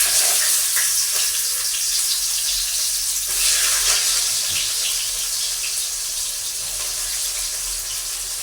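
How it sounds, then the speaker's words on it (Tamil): Chopped onions fry in hot oil in a pan, giving a steady, close hiss and crackle that runs unbroken throughout. "அப்போ நாங்கள் வெங்காயத்தை போடுறோம்."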